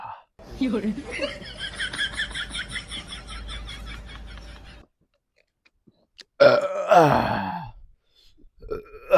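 A loud, drawn-out burp after a swig of cold Sprite, with a throaty belch and laughing grunts, followed after a pause by a second harsher vocal outburst.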